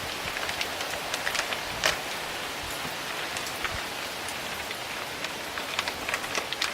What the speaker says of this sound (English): The rain's trying to blow in on me.